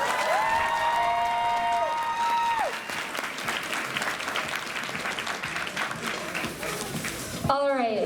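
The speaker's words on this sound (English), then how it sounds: "One more round of applause for Rin." A crowd at the Anime Magic Cosplay Contest 2021 applauds the cosplayer Rin, with dense, even clapping that holds for about seven seconds, a ringing tone at the start and a voice breaking in at the very end.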